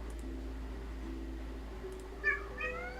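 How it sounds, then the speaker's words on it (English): A cat meows nearby in a video game setting, two short calls near the end after a quiet stretch with a low steady hum. "There's a cat nearby, and she's screaming"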